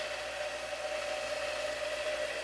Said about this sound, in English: You can probably hear that tumbler going in the background.